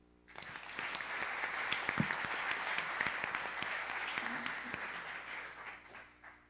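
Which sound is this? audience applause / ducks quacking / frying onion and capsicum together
audience applause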